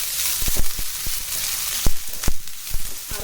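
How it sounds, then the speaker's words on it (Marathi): Spring onions sizzle steadily in hot oil on a high gas flame for veg fried rice, a continuous bright crackle broken by sharp scrapes and stirs in the pan. "तेल तापलंय, त्याच्यात आपण घालतोय कांदा."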